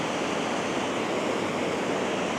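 Water rushes below a lake dam beneath a city bridge, a loud, steady, hissing roar of churning flow that holds constant throughout with no voices.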